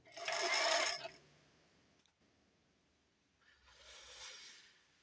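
A sewing machine starts up with a burst of whirring mechanical motor noise, falls quiet after a click, then a second softer run follows.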